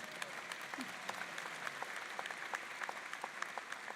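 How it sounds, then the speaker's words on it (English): Distant, faint applause from a graduation ceremony audience at George Mason University's Schar School, a soft continuous patter of many hands heard from far back in a large hall. "You can clap, it's okay."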